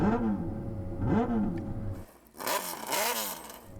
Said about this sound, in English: that sounds like a car